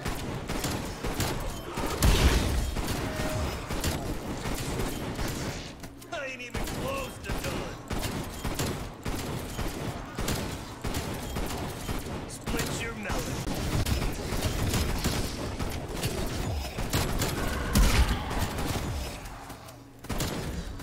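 Repeated shotgun blasts in Call of Duty: Cold War zombies, a chaotic stream of firing mixed with game effects and zombie noise throughout, with a voice talking over parts of it.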